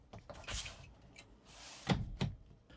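Plastic glove box compartment lid on a cheap Tractor Supply UTV being opened, a few short clunks and latch knocks, close by, with faint voice around them.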